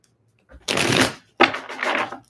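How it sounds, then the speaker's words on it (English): A deck of tarot cards is shuffled close up in two quick riffling bursts separated by a short pause, crisp and papery against an otherwise quiet background. "Nice juicy shuffle for you."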